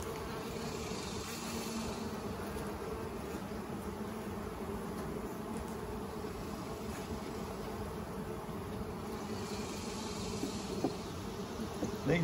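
Honey bees swarm and buzz around opened hives during a honey harvest, a dense, steady drone that fills the whole stretch close by with no talk over it.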